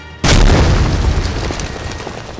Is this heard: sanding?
no